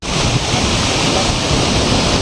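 A mountain waterfall in Munnar thunders as a loud, dense roar of falling water and spray, constant and close for a couple of seconds, with wind rumble on the microphone.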